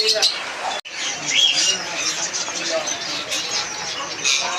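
Parrots chirp and squawk at a busy bird market in Faisalabad, the calls fairly close and continuous while people talk over them throughout.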